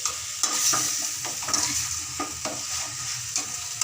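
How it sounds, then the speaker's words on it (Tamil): Dried anchovies being stirred in a hot frying pan, with steady sizzling and repeated scraping strokes of a spoon against the pan, close and clear with no talking. "போட்டுட்டு நல்லா கிளறி விடுங்க"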